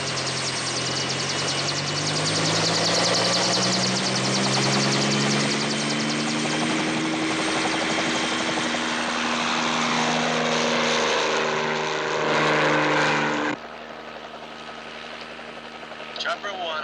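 Helicopter flying close by, a loud continuous rotor and turbine whine with pitch sweeping down, cutting to a quieter hum near the end.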